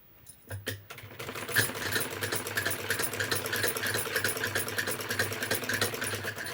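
A sewing machine runs continuously as it stitches a blouse lining, a close, busy mechanical whir with rapid needle ticks, preceded by a couple of sharp clicks at the start.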